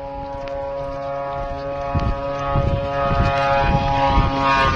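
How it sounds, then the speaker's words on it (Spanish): Shahed attack drone passing overhead in Ukraine, a steady buzzing engine drone with a strong harmonic hum that swells louder toward the end, near and continuous with no talk. "Según Sergei Flesh, eso fue un Shahid."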